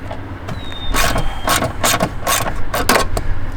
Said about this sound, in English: To remove the rear mechanism, we have to pop the trim back.